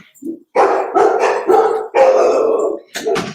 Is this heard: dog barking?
yes